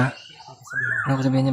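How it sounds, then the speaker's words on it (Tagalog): A short bird call that swoops upward in pitch, heard between stretches of people talking. "tunog ng ibon. Kanina pa yan sumusabi."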